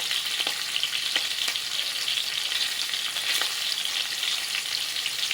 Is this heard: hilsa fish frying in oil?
yes